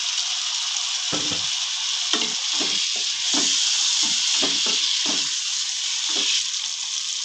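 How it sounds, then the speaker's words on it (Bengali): Fried potatoes and cauliflower tumble into a hot pan of spiced masala and are stirred, giving a steady loud sizzle with repeated scraping and stirring knocks throughout. "ভাজা আলু, ভাজা কপিগুলো আমি দিয়ে দিচ্ছি।"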